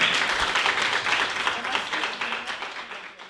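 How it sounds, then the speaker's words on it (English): Applause for keynote speaker Rosa Clemente at a college social justice series event, a moderate wash of clapping from the audience that slowly fades over a few seconds. "Please give her a round of applause."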